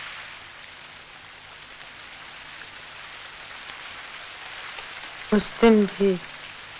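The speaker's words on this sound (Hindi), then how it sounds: "फिर जोर से बारिश आई।" Heavy rain falls steadily as a soft broadband hiss through the whole clip, and a voice speaks briefly near the end over it.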